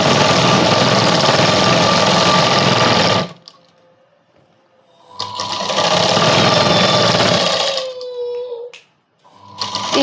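A sewing machine stitches a kids' night dress in two long, loud, whirring runs split by a quiet pause, then starts a third burst at the end; no one speaks.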